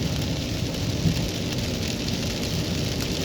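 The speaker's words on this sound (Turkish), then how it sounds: "Yağmur biraz daha arttı." Steady rain pouring down on the Bolu road near Mudurnu, a dense continuous hiss of drops drumming on a surface, close and loud with no voices.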